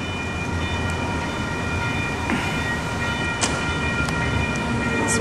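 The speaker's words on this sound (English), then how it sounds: "I want you to see how long this train is right here." A long train rolls past in Sacramento with a loud, continuous rumble and rattle of wagons, steady throughout, with occasional metallic squeals rising above it.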